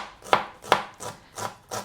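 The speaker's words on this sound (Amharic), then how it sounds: "I can chop pretty well." Knife chopping food on a board: four or five crisp, evenly spaced strikes, close and clear, with no talking.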